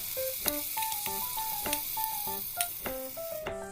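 Chili added to hot spice masala sizzling in oil for Odia aloo dum potato curry: a steady bright sizzle with sharp crackles, while melodic background music plays over it.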